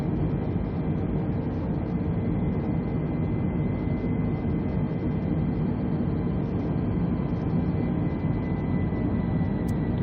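Steady, loud roar of Airbus A320 jet engines at climb thrust in Microsoft Flight Simulator 2020, a continuous broadband drone holding evenly throughout with no breaks.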